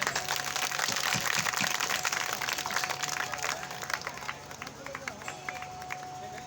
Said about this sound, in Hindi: एक बार ताली की सेवा